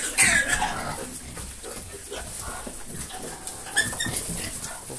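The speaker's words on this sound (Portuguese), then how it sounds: "Os porcos brigando aqui." Pigs fighting in a pen on a small family farm, scuffling and squealing in bursts close by, with someone talking over them throughout.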